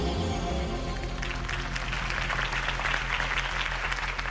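A crowd at a Harvey Dent campaign rally in the Batman Telltale Series game breaks into applause, a faint, dense wash of clapping that swells in after a low musical drone.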